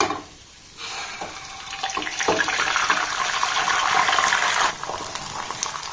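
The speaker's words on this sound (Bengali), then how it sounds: "এবার দেখুন এই ডিমের মিশ্রণটা এই তেলের মধ্যে আমি দিয়ে দেব" Beaten egg mixture is poured into hot oil in a pan, a soft trickle that swells into a sustained sizzle and hiss for a few seconds before easing off, close and without talk.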